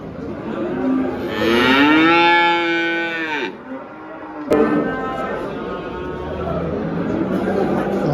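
A cow at the Vezirköprü livestock market in Turkey, penned with other cows and calves, lets out one loud, long, close moo over the busy background noise of the market.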